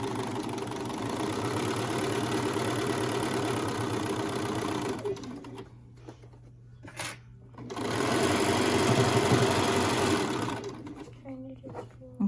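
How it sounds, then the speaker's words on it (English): A sewing machine stitching a fabric surgeon's cap runs in a steady, close mechanical whir for several seconds, stops briefly, then resumes for another stretch before pausing again. "We're just sewing it closed"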